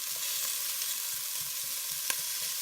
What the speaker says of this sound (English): We don't want it to burn, so that's why I'm constantly stirring it around. And I'm just breaking up the onion pieces.